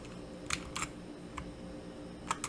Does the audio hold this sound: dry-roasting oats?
no